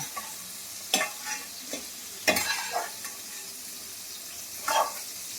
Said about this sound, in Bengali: বটবটি আলুর ভাজি মানে ভাজা ঠিক আছে এটা হতে থাকুক